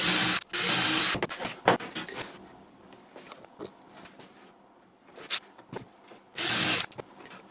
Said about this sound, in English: I can drill them out.